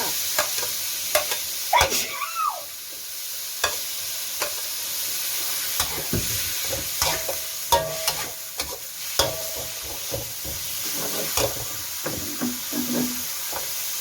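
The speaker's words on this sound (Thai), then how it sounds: "ก็ใส่ปลาหมึกลงไปเลยค่ะ" Squid stir-fried with minced pork in a pan for a Thai holy basil stir-fry, an ongoing sizzle broken by repeated clacks and scrapes of the spatula against the pan, without talk.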